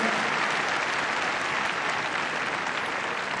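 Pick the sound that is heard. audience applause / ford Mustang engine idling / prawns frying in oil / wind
audience applause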